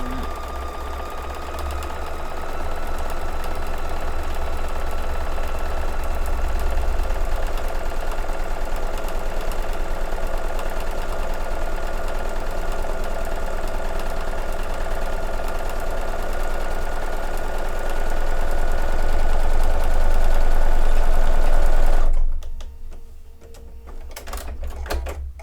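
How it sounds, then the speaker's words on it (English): Sewing machine stitching a quarter-inch seam for a project bag, steady close mechanical whirring that runs continuously, rises briefly, then stops with a few clicks. "So I'm going to sew a 1/4 inch, and you can backstitch if you want."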